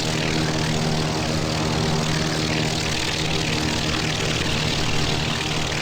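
Gee Bee Racer, a 1932 racing plane flying fast in the IL-2 1946 game, its propeller engine a loud steady drone that holds unbroken throughout with no talking.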